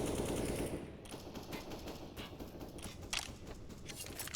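Pistol gunshots during a Counter-Strike match on Dust2, a quick series of sharp, faint cracks with small clicks spread through the clip over a low background.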